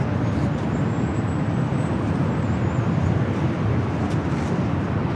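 Heavy jet airliners taking off at LAX give a loud, steady broadband roar from a distance, with a faint whistling tone drifting above it throughout.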